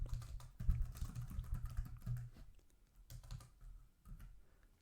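Keys clatter on a computer keyboard in quick, uneven bursts, close and fairly quiet, with short pauses between runs of typing.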